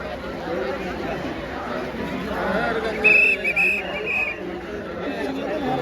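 Police whistles blown at a crowded bathing ghat at the Sangam during the Mahakumbh, a few short shrill blasts midway through, heard over dense crowd chatter and talk.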